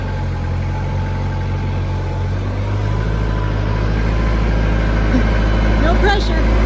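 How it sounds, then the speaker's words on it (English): A farm tractor engine runs steadily at low revs and close by, a constant rumbling idle under intermittent voices, used on a Mississippi farm to help unload a piano. "Cody's bringing up the tractor here"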